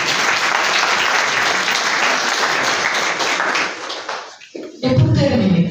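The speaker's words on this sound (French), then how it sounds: "Je voudrais qu'on applaudisse les enseignants." An audience at an excellence awards ceremony applauds the teachers, a dense, loud wash of many hands clapping that fades out near the end before a voice begins speaking.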